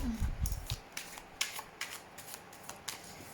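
Tarot cards are shuffled by hand for a reading, a quick run of soft crisp riffles and flutters, close and fairly quiet, with no talking.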